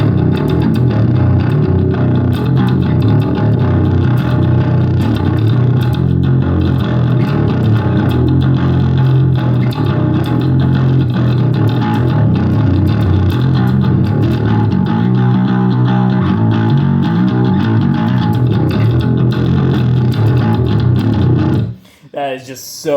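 Thick, distorted bass guitar through a Joyo Ultimate Drive overdrive pedal, playing steadily and loud throughout, a gritty overdriven growl that cuts off abruptly near the end.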